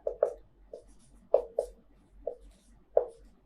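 Chalk or marker writing on a board in a physics lecture: a series of short, sharp tapping strokes in irregular bursts, close and distinct against a quiet room, with no speech.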